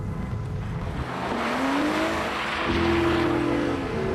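A BMW 328 is driven hard on Dutch roads with traction control off, its engine note rising steadily as the tyres squeal, loud and close with no talk.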